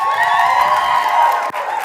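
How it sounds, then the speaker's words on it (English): A live comedy audience bursts into applause and cheering, a dense roar of clapping and whoops that carries steadily for a couple of seconds and then dips briefly before swelling again. "By a round of applause."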